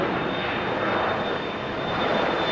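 A fixed-wing airplane takes off at LAX airport in stormy weather, its engines producing a loud, steady, continuous roar that holds throughout without a break.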